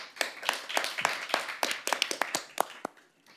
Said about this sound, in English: Let's give these debaters a big round of applause.